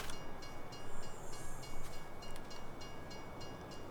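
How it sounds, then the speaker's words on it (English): A train rumbles steadily in the video game Yogiland, a dense rolling clatter with faint repeated clicks, constant and fairly quiet, with no voices. "Who parked the train right in the middle of my farm?"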